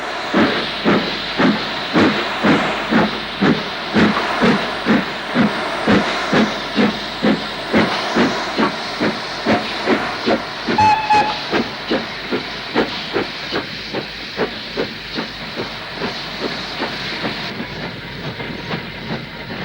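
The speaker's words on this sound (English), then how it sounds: "9293 gets away again after a stop to raise steam" Steam locomotive 9293 pulls away after a stop to raise steam on the steep 1 in 25 climb near Shap, loud rhythmic exhaust chuffs beating steadily under a constant hiss and gradually easing as it moves off.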